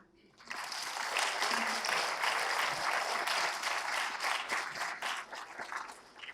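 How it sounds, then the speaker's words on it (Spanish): Applause from an audience at a book presentation for the book El Telar del Alma, a dense, steady clapping that swells quickly and holds fairly loud throughout, with a few voices mixed in. "Recibamos nuevamente con un fuerte aplauso a Lu."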